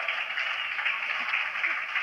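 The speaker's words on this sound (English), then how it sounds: "Round of applause from the Pakistani supporters and the players on the balcony as well." Pakistani supporters and players on the balcony applaud during a Pakistan vs Leicestershire cricket match, a steady, continuous wash of crowd clapping that holds at an even level throughout.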